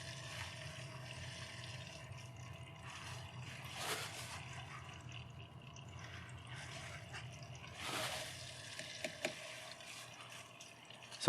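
A DIY water cooling loop pump runs continuously, a faint steady hum with trickling, gurgling water as air bubbles work through, swelling into louder bubbly surges around the fourth and eighth seconds, ending with a sharp knock.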